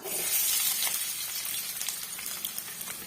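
Steady loud sizzling of finely chopped onions frying in hot oil, a continuous crackling hiss with occasional small pops, no talking.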